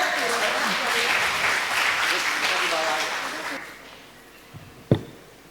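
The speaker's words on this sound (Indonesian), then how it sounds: "Boleh kita berikan tepuk tangannya?" An audience at a book launch event in Jakarta claps in a dense, lively burst that fades out after about three and a half seconds, followed by a couple of sharp knocks.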